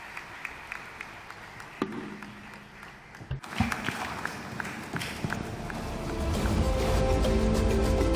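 Applause from an assembly audience at the CAF General Assembly in Kinshasa, a dense sustained wash of clapping that starts after a brief pause and swells louder toward the end.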